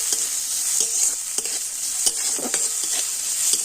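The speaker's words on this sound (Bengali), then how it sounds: "পেঁয়াজ আদা রসুনটা কিন্তু আমি খুব সুন্দর লাল করে ভেজে নিয়েছি" Chopped onion, ginger and garlic fry in a pan with a bright, dense sizzle, broken by repeated scraping stirs of a spatula, close and fairly loud, with no voices.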